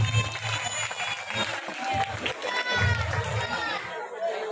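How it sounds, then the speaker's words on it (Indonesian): Applause from an audience for the participants of a santri quiz competition at NU Darunnadwah, a steady wash of clapping mixed with crowd chatter and voices throughout. "Beri aplaus untuk seluruh peserta."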